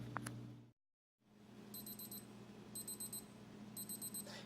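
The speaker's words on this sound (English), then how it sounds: "When the timer goes off" A short beeping kitchen timer alarm repeats in three separate clusters of rapid high beeps, following a brief silent gap.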